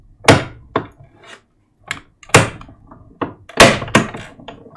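A hand-cranked die-cutting machine punches a paper sheet, giving a series of uneven heavy thunks and clunks with short gaps between them.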